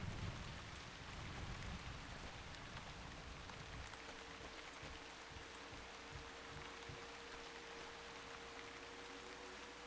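Steady rain pours across the outskirts of a town in the fantasy game Shroud of the Avatar, a dense even hiss with scattered patters that continues unbroken throughout and no voices.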